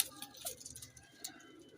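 A pigeon cooing softly in a loft, a few faint low coos close by under quiet background sounds, with a voice nearby.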